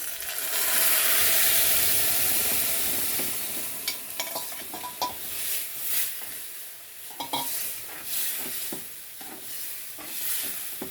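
Cooked toor dal and tomato hit a pan of oil with kasuri methi for dal fry, starting with a strong hissing sizzle that eases into intermittent stirring scrapes and softer bubbling.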